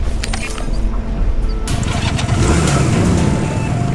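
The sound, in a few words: vehicle engine starting in video game Undawn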